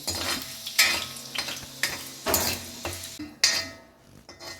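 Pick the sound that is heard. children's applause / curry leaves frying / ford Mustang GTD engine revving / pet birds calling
curry leaves frying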